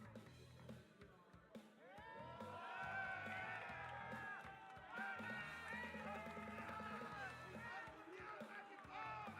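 Cheering and clapping at a King of Fighters XV top 8 fighting-game tournament, a lively crowd roar with shouts and whoops that swells and holds for several seconds at moderate distance.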